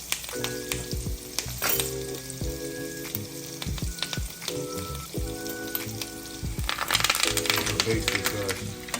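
Fondant potatoes sizzling in butter and garlic in a hot pan, a close crackling fry with clinks and taps of utensils and a basting rhythm, while someone talks over it.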